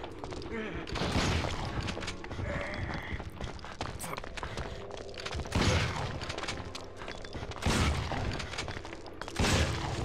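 Gunshots in Resident Evil Outbreak File 2, several loud sharp blasts spaced a few seconds apart among footsteps and game noise, with a voice talking in between.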